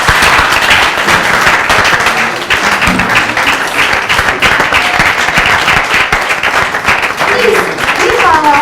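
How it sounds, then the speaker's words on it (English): Sustained audience applause fills a closeout ceremony hall, dense and steady throughout, with some crowd noise and voices mixed underneath. "Please give our mommy a round of applause."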